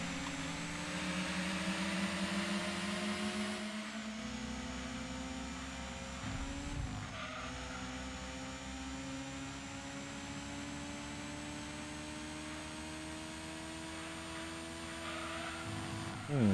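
A Toyota Celica race car in a racing video game revs through its gears with a steady, droning engine note and brief dips at each shift, loud and continuous throughout.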